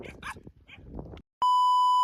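Village dogs bark at people walking along a road on a foot pilgrimage, giving a few short, close barks and yips before a steady, loud electronic beep cuts in.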